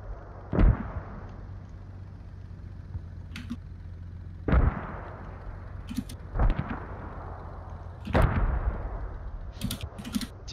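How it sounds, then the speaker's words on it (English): Mortar rounds exploding in the military shooter game Squad, four heavy booming blasts spaced a couple of seconds apart, each with a rumbling tail, over a low steady hum and faint clicks. "So people don't know if they're hitting friendly mortars or enemy mortars right now"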